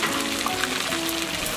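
Shengjian pan-fried buns fry in a wide pan at a long-running Nanchang stall, giving a steady, dense sizzle that fills the whole moment without breaks or voices.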